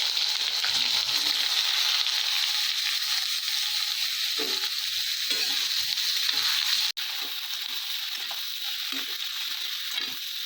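Eggplant pieces fry in hot oil with fenugreek seeds, a steady loud sizzle filling the whole stretch with faint stirring scrapes underneath and one sharp click midway.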